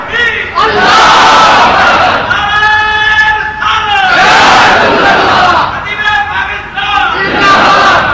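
Large crowd at a religious gathering chanting slogans in loud unison, rising in repeated surging waves with short pauses between, each cry close and powerful.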